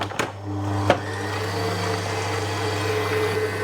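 Two kitchen machines running together, pureeing oranges with egg yolks: a steady loud motor whine with a low hum, a couple of short knocks near the start, then an even drone.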